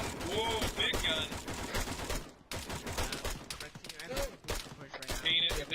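Heavy machine gun fire in a video game firefight, with rapid bursts crackling in the foreground while several players talk and shout over the shooting.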